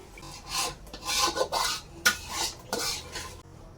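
Spices for khichuri being stir-fried in a pot, heard as repeated rough scraping and rasping strokes of a spoon against the pan. A sharp clink comes midway, close and moderately loud, with no speech.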